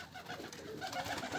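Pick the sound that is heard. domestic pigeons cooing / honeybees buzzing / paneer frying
domestic pigeons cooing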